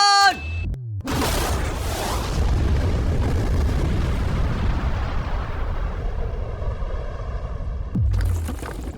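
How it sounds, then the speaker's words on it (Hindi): A huge explosion blows open a safe, a loud blast that sets off a long, roaring rumble lasting several seconds before it dies away, followed by another sudden burst. "ये एक असली धमाका है"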